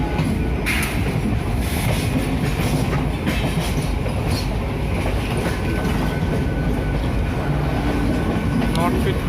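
An Indian Railways Jan Shatabdi train on the Bhubaneswar–Howrah route rumbles past, a loud steady roar with clattering wheels and faint squeals that holds for the whole stretch.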